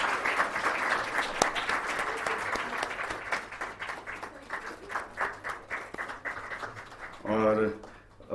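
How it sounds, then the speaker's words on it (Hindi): At the Bodhgaya Biennale 2020 announcement event, an audience gives brisk, fairly close applause that thins into scattered claps, followed by a short burst of a voice near the end. "मुझे लगता है कि एक बार जोर से तालियां होनी चाहिए"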